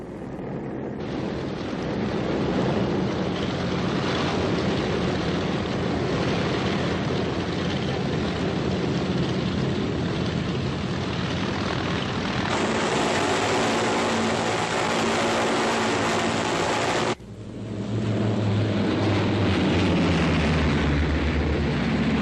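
C-47 transport planes towing gliders in World War II give off a continuous propeller-engine drone, steady and fairly loud, with a brief dip and a change in tone near the end.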